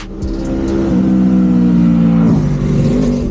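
Moto Guzzi V7 Stone Corsa motorcycle engine revving close by, a loud low throb that climbs in pitch and then eases back, with a few brief clicks at the start.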